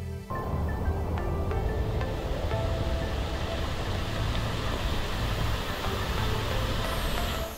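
A waterfall beside an eco resort in the forest gives a steady, loud, unbroken rushing roar throughout, with a few faint tones early on.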